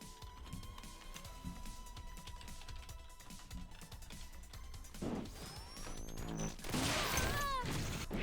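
Bullets shoot in a game level under construction, a quiet mechanical hum that builds into a cluster of sharp crashes, impacts and whooshing shots near the end.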